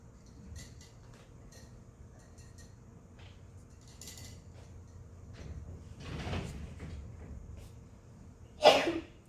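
A single sudden sneeze bursts out near the end, after several seconds of quiet rustling and faint movement.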